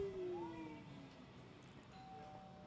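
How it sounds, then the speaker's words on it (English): A phone notification chime in a quiet early-morning room, a soft two-tone ding-dong sounding faintly and briefly at a distance over low background hiss. "Someone's phone's ding donging."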